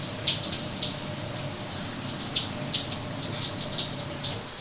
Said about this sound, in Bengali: আমি আরও একটু জল দেবো, দেখো যেন বাটিটা গায়ে না লাগে সেরকমভাবে আমি জলটা দেবো।